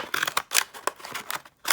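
Scissors snip through a folded paper plate in a quick run of sharp, close cuts, about eight crisp bursts with brief gaps between them and no voices.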